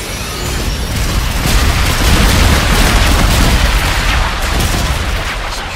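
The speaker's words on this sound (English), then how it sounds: "Enemy bombardment incoming." Loud, dense barrage of bombardment explosions and gunfire in Call of Duty: Infinite Warfare multiplayer, a continuous roar of booms and rapid shots close by, with no talk.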